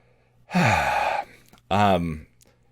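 A person breathes in audibly, then exhales in two loud, close breaths with a short gap between them, each lasting under a second, against an otherwise quiet background.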